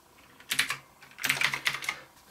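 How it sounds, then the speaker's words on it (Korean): Keys clatter on an NKEY R3 RGB mechanical keyboard in two quick, close bursts of crisp clicks, a short one followed by a longer run, with no voices. "제가 이제 특정 키를 한번 누르고 싶을 때는 그냥 이렇게 눌러놓으면 계속 입력을 하겠죠"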